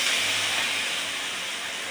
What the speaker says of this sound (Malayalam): അപ്പോൾ ഗൈസ് നമ്മൾ 1 കപ്പ് വെള്ളം ഒഴിച്ച് കൊടുക്കുന്നുണ്ട് കേട്ടോ ഗൈസ്